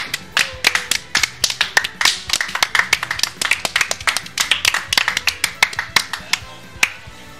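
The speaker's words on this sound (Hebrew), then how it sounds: "כפיים" Sharp hand claps in an uneven rhythm, a small group clapping close by at a gaming tournament match, with brief voices mixed in.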